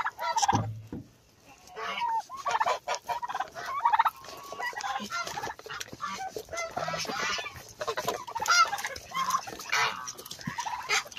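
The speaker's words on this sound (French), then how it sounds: "Vous avez les dindons là." Turkeys gobble over and over in a noisy, busy flock, their rattling calls overlapping with other farmyard bird sounds.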